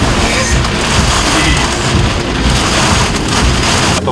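Steady rain falls throughout during an off-road drive over rough terrain in Moab on Cooper Discoverer STT Pro tires, a dense continuous hiss with low rumbling underneath and no clear breaks.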